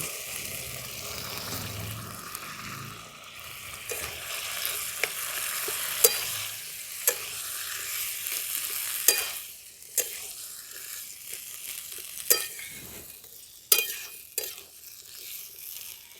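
Boiled chickpeas are stirred into fried masala in a pan, with soft sizzling beneath regular scraping strokes and occasional sharp clinks of a spoon on metal, near and with no one speaking.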